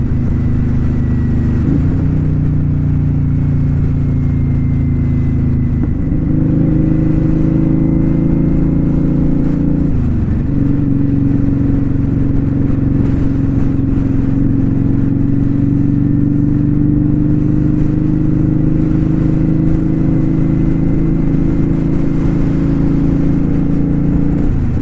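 A 2018 Kawasaki Vulcan Custom cruiser motorcycle rolling through Las Vegas streets, its engine droning loud and steady close up with a couple of gear shifts and wind rush throughout.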